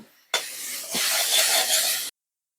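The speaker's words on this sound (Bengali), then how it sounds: "ভাজার জন্য আমি পরিমাণ মতন লবণ দিয়ে দেবো এবার শাকটা আমি ভালোভাবে ভেজে নেব" Bathua greens with salt frying in a pan, a loud hissing sizzle that bursts in suddenly, swells and holds steady for under two seconds, then cuts off.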